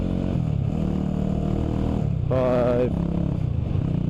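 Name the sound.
1989 Honda GB250 Clubman motorcycle engine shifting through gears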